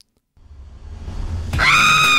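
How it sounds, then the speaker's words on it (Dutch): A woman's extremely loud, competition-measured scream at about 129 decibels, rising from a rough breathy onset into a sustained, piercing high-pitched shriek that stays loud and close to the end. "Haar oorverdovende schreeuw werd tijdens een competitie gemeten op 129 decibel."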